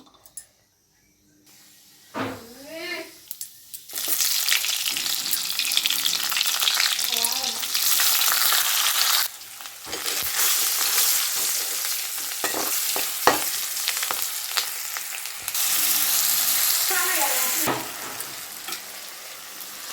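Tomatoes frying in a pan for tomato rice give a steady, loud sizzle with stirring scrapes throughout, after a quiet start and brief pauses in the frying.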